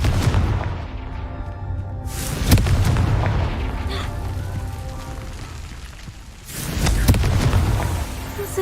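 Confringo explosive spell cast in Hogwarts Legacy, two loud booming blasts a few seconds apart, each with a rumbling tail, amid game noise.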